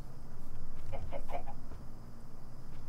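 A few soft, quick clucks from Minecraft chickens, moderately near, over a steady low background hum.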